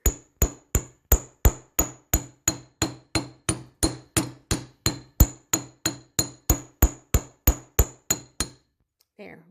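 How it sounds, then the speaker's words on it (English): Small metal hammer taps wire flat for beaded paddle earrings, striking about twenty-two sharp, ringing blows at a steady brisk rhythm against a hard block, close and loud, then stopping abruptly. "it will make me hammer the right part of the wire"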